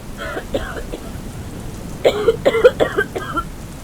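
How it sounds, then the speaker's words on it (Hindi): An old woman's raspy coughing in short bursts, a couple early and then a longer fit, over the steady hiss of falling rain. "दादी की खांसी बढ़ती है।"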